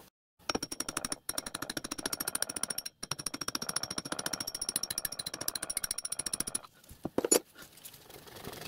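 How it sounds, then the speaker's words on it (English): Brass punch tapping the headstock shaft out of a Myford ML7 lathe, a long rapid run of sharp metallic knocks close by, pausing twice, then a few heavier separate blows near the end. "Now I can tap the shaft out. I'm using a brass punch for this."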